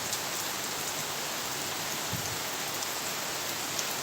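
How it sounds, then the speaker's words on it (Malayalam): Heavy rain pours down as a dense, even hiss that stays steady and close throughout, with no voices. "നല്ല മഴയാട്ടോ"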